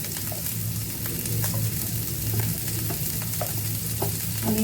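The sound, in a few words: onion and chili frying and stirring in pan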